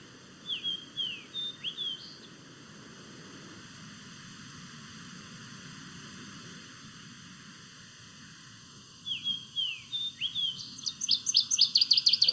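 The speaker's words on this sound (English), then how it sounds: "Water thrush that had to get in there too." Two bursts of bright, clear waterthrush song with quick slurred phrases, separated by a stretch of steady hiss, the second burst louder and more rapid.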